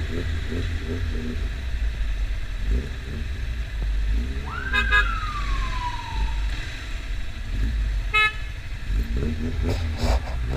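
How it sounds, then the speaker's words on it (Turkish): Car horns honk in busy Turkish traffic around a motorcycle: a few short and sustained blasts plus a siren-like sweep over a constant engine and road rumble. "Kim kime korna çalıyor, öttürüyor anlamadım ki."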